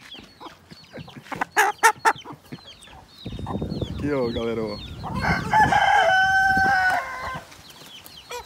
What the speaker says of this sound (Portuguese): Tudo é frango novo.